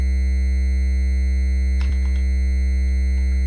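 A steady, buzzy triangle-wave tone from the wave synth on an M8 tracker holds constant throughout, with a faint click and brief flutter near the middle; no voices.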